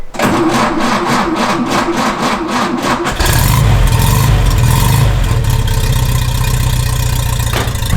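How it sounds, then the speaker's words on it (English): A 1955 Porsche 356 Continental Pre A engine cranks with a rapid rhythmic starter churn for about three seconds, then catches and settles into a loud, rumbling idle, close by. "we're going to give her a start and roll her out into the sunlight a little bit"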